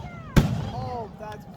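A single sharp firework burst at a Christmas-themed display, a loud pop followed by crackling and fizzing trails, with faint whistling tones as it fades.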